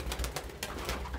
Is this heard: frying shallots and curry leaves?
no